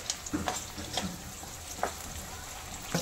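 Tomatoes and onion softening in hot oil in a pan, a steady quiet sizzle with a few brief stirring clicks scattered through.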